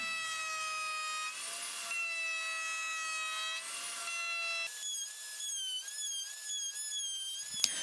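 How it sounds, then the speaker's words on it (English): A power tool rough-cuts plywood pieces for a kitchen cabinet arch, giving a loud, steady motor whine that shifts pitch partway through and stops abruptly near the end, with no talking. "I just went to town rough cutting everything out of the plywood"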